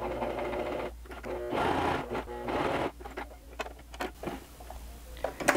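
A sewing machine stitches a seam on a polo shirt collar facing in two short bursts of rapid mechanical whirring, followed by scattered clicks and fabric handling as the seam is finished.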